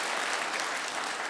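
A church congregation at a Korean Presbyterian Sunday service in New Jersey breaks into brief, full applause, a dense wash of many hands clapping at a steady level for just over a second.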